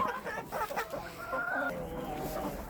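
Several bantam chickens cluck and chatter softly nearby while being fed corn, a busy overlapping murmur of short calls.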